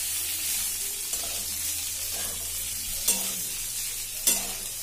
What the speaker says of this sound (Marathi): त्याला हलक्या हाताने हलवणार आहोत आपण।